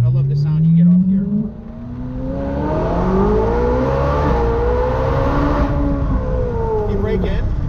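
A race car on a small driving-experience track in Bridgewater, New Jersey, its engine revving and shifting with rising and falling pitch sweeps as it accelerates through the circuit, loud and close, with some talk mixed in.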